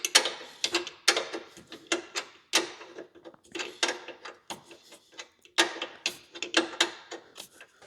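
Ratchet tightening the upper bracket bolt of a Bilstein 8100 shock on a 2024 Jeep Wrangler Rubicon JL, a close series of quick clicking bursts with short pauses between strokes.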